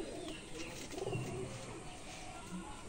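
Soft, low pigeon cooing at a pigeon market, repeated murmuring calls over a steady background hum of other birds.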